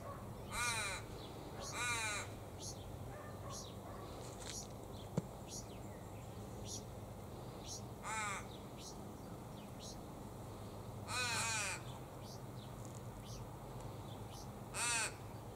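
Australian ravens caw in several loud, drawn-out bursts spaced through the scene while feeding on nectar in a silky oak tree, with steady insect and outdoor background hum underneath.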